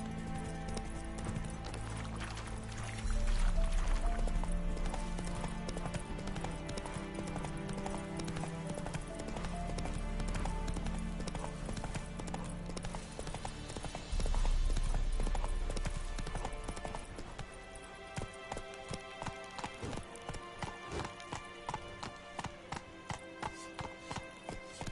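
Roach, a horse in The Witcher 3: Wild Hunt, gallops with rapid clip-clop hoofbeats that come in bursts over loud game music, then slow into distinct spaced steps near the end.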